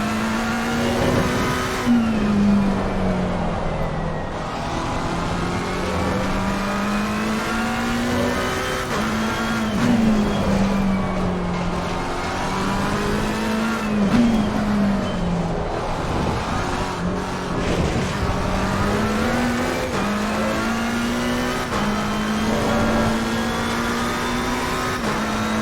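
A McLaren race car engine drones and rises in pitch during a racing video game at Barcelona, a steady loud whine with shifting revs throughout.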